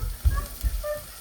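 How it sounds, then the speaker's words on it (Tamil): Onion and ginger-garlic paste sizzle in hot oil for a Sri Lankan-style carrot cabbage milk curry, a soft steady frying hiss with a few low thumps and clatters from the pan, no voices. "இந்த ஒரு நிமிஷம் வெங்காயம், இஞ்சி பூண்டு பேஸ்ட்டு, கருவேப்பிலை தாளிக்கிறதுக்கு இதை போட்டுக்கணும்"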